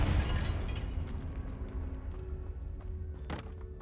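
A Confringo spell explosion in Hogwarts Legacy lands as a loud, deep boom that fades over a few seconds, with a sharp burst near the end and a low rumble underneath.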